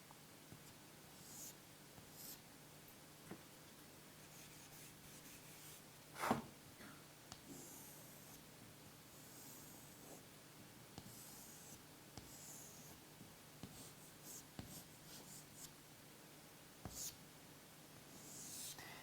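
Pencil or pen sketching on paper during a dynamic sketching lesson, soft continuous scratchy strokes over a steady low hum, with occasional sharper taps and faint breathing; fairly quiet and close.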